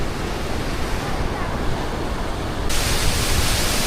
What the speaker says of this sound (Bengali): জলের ধারা বয়ে চলেছে